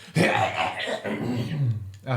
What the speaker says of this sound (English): let me clear my throat because I have a frog in it.